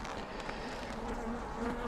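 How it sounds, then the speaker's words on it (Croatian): Honey bees in an opened beehive hum in a dense, continuous drone at close range, with a steady pitched buzz holding throughout. "Ništa, ne znam da dalje ne bih uznemiravao pčele."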